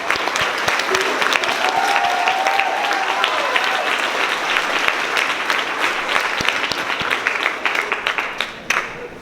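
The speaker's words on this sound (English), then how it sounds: "Do one more round of applause." Loud, sustained audience applause fills a school's fifth-grade celebration at an elementary school, dense clapping running steadily throughout with a brief faint tone and a few voices mixed in before it thins near the end.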